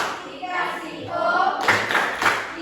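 Schoolchildren in a classroom chant together, then break into a few crisp synchronized claps of the 'tepuk wow' routine, close and energetic.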